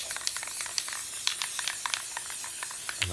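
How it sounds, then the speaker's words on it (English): Aerosol spray paint hisses in short repeated bursts while PVC enclosure parts are coated, each spurt close and fairly quiet over a steady airy background. "So now I'm spray painting everything out."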